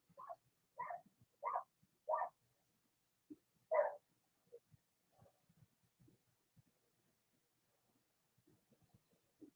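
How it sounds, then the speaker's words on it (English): A dog named Molly barking at a neighbor, with a run of four quick faint barks and one more after a short pause, heard at a distance with soft low voices murmuring afterward. "Y'all hear my dog barking?"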